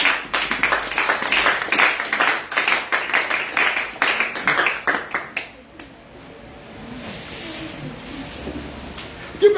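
An audience applauds loudly at a French-language talk on the first Christians, with dense clapping for about five seconds before it fades to a quieter murmuring room.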